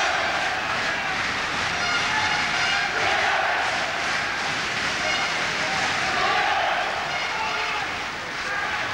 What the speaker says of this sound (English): Crowd getting right behind McCullough now. Every time he lands a telling sort of a blow, they raise their voice